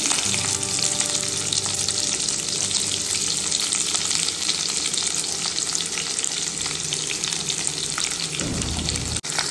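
Green chilies and thinly sliced onion frying in hot oil for a Telangana fish curry, a loud continuous crackling sizzle with stirring scrapes throughout, ending in a sudden sharp clatter near the finish.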